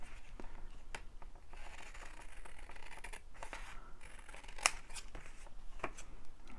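Scissors snip around a printed paper image of a flower fairy, a steady run of close, crisp cuts with a few sharper snaps and no voices.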